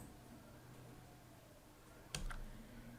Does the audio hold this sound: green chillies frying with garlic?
no